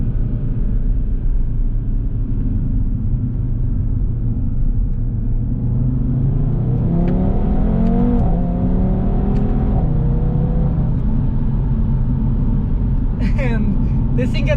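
A 2019 Audi TT RS in manual mode revs loudly while driving, its engine note sweeping up and down through shifts over a steady road rumble, heard from inside the cabin.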